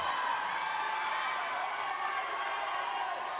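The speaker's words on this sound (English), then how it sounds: "as you can hear, the fans are cheering here because it looks like it's pretty tight here between Brian and Joseph" Steady wash of crowd noise from fans at an aquatics venue during a close 100-meter freestyle swimming race, a dense continuous roar with a few higher whoops rising out of it.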